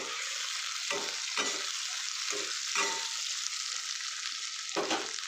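Onions and chopped tomato fry in a pan with a loud, continuous hissing sizzle, broken by several scraping stirs of a spoon that briefly muffle the hiss, heard close up with no talking.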